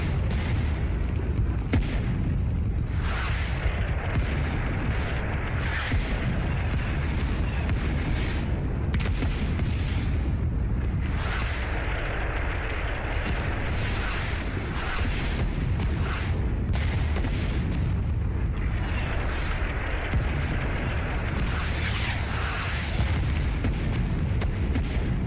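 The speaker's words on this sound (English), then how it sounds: "I'm not gonna move until the artillery is done." A sustained artillery barrage pounds a battlefield in Rising Storm 2: Vietnam, with continuous heavy booms and rumbling explosions overlapping for the whole stretch, loud and dense with no pauses.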